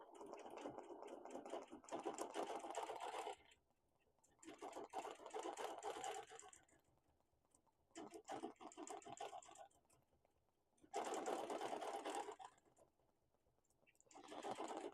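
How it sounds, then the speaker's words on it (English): A Bernina Q20 sit-down longarm quilting machine stitches in several bursts of steady, rapid needle running during free-motion quilting of a wholecloth quilt, separated by short pauses, close and fairly loud with no talking. "I'm stitching, for those who don't know this machine. It's a Bernina Q20 sit down long arm."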